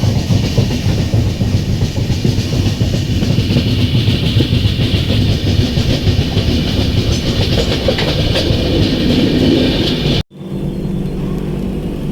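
A train rolls on rails as it nears Sasaram station at night, giving a loud, continuous rumble with rhythmic clickety-clack. There is a sudden brief cut near the end before the rumble resumes.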